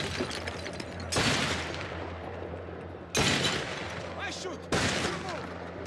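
Three loud bursts of gunfire break out at intervals over a constant background hum, each blast sharp at onset and trailing off, with voices faintly beneath.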